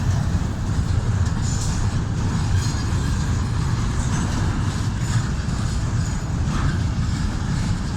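CSX intermodal freight train rolling past at Plant City, Florida, a loud steady rumble with continuous rhythmic wheel clatter, close by and unbroken for the whole stretch.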